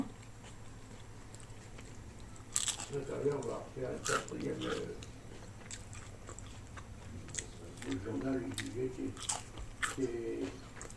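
Crispy fried gyoza dumplings, cooked from frozen, are bitten up close. There are two clusters of sharp crunches followed by chewing, with soft talk in between.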